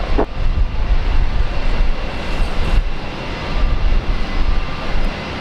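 A Velocity jet airliner takes off from runway 01 left at Brisbane Airport, its engines giving a loud, broad, steady roar heard from the ground with no talking.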